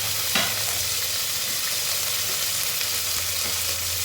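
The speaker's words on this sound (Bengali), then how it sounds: "এবারে তেল গরম হয়ে গেছে, যে সবজিগুলো আমি কেটে রেখেছিলাম সেই সবজিগুলো এক এক করে সমস্ত আমি একসাথেই দিয়ে দিয়েছি" Chopped vegetables sizzle steadily in hot oil in a pan for a home-cooked vegetable khichuri, a loud, continuous frying hiss with occasional stirring scrapes and no voices.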